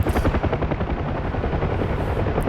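Helicopter flying at treetop level in the DCS combat flight simulator, a loud steady rotor chop with rhythmic blade thumping and turbine whine filling the whole stretch.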